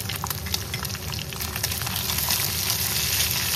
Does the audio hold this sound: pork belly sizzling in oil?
yes